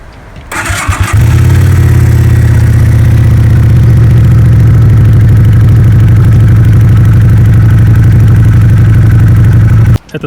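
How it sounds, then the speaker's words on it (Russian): Lifan V16 250cc motorcycle engine starting up, a brief cranking whir and then a loud, steady, deep idle from the exhaust that runs close and unbroken for several seconds before cutting off. "Сейчас попробую завести и показать вам."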